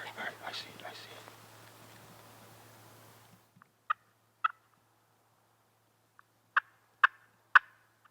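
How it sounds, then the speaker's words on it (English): A lone wild turkey gobbles in the woods, several short distant calls spaced apart after whispered talk fades. "we had a lone turkey winding its way toward us"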